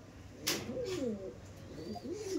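Kasmadom and Kaldom breed pigeons kept for sale coo softly in a loft, several rolling throaty coos overlapping at close range over a low background hum, no voices.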